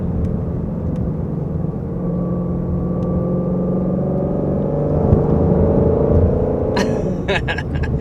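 A 2021 Ford Mustang Shelby GT500 with a 760 hp engine and dual clutch transmission, steady loud engine drone with rising tones, then quick sharp bursts near the end as it drops several gears.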